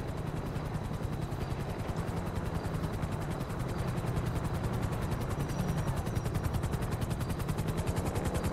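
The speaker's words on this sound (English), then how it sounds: "A helicopter has been dispatched to your location." Helicopter rotor beating steadily in Grand Theft Auto V, a loud, continuous rhythmic chop that holds close and grows slightly stronger as the aircraft arrives, with no voices over it.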